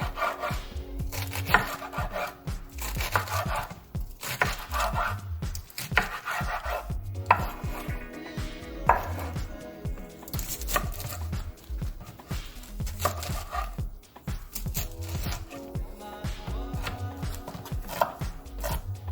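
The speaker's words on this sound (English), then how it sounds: "Chop the lettuce, not cut." A knife chops lettuce on a cutting board in a fast, steady run of close thuds and crisp crunches, continuing without pause, with no talking.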